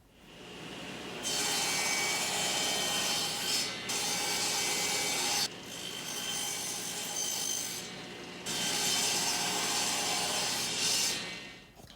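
Hand saw cutting through pallet wood in long, steady rasping bursts, three sustained passes separated by short pauses, loud and close.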